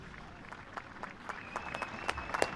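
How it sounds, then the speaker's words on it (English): Rugby match spectators applaud the Alloway Boys Brigade pipe band before Ayrshire Bulls face Heriot's, a steady patter of clapping from a moderate-sized crowd that grows denser and slightly louder toward the end. "the pipe band are warmly applauded"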